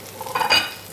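Onion and tomato frying in a pan for a homemade potato flatbread and tomato chutney meal, a soft steady sizzle swelling briefly as the tomato goes in, with light stirring clinks, no talk.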